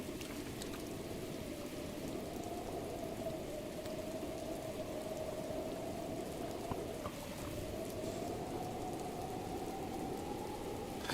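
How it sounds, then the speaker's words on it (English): Steady rain falling continuously outdoors during a storm, a dense even hiss of drops on surfaces with no pauses, fairly soft and uniform throughout. "The sound of rain is especially nice to sleep to."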